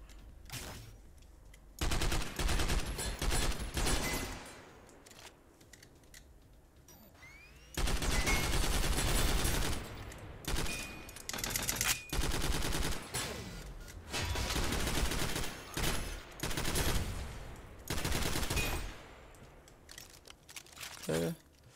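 Gunfire from the video game SYNTHETIK: Legion Rising, with loud rapid bursts of automatic shots repeating in several long volleys separated by short pauses.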